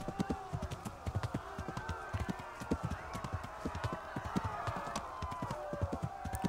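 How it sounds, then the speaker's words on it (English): Horse hooves galloping in the medieval video game Kingdom Come: Deliverance, a steady rapid clip-clop rhythm of hoofbeats throughout, mixed with game ambience and faint background sounds. "I think it's something to do with riding horses."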